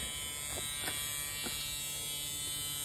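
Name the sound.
car buzzer buzzing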